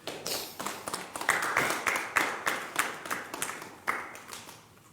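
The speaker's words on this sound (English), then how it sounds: "I don't know why you're clapping." A few people clap by hand in a loose, uneven rhythm of sharp slaps, moderately close. The clapping keeps going for several seconds and then trails off.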